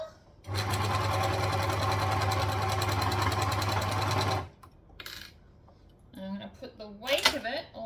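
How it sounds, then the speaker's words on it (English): A 4-thread overlocker runs at steady speed for about four seconds while sewing fabric, a loud, even motor hum with rapid stitching rattle, then stops and a person speaks nearby. "this is why I love a 4-thread overlocker, because I can just sew this"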